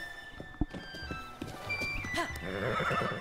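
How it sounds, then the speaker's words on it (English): A horse in the Breath of the Wild video game whinnies, followed by its hooves clip-clopping along, with the neigh rising clearly near the middle and game ambience underneath. "Oh, hey, look, it's the horse."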